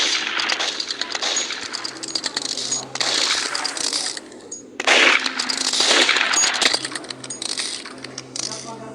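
Rapid bursts of video game shooter gunfire, dense and loud with brief pauses, while a player talks excitedly over the shooting.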